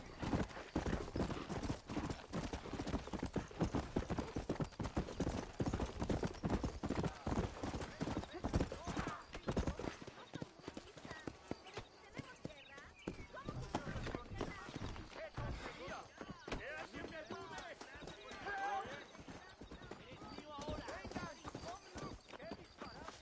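Steady clip-clop of video game horse hooves trotting at a quick, even rhythm, loud and close, with a brief neigh and some voices over it, from a PS4 game.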